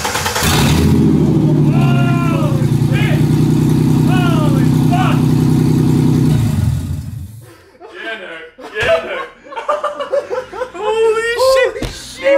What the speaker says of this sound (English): we're gonna start the car without the exhaust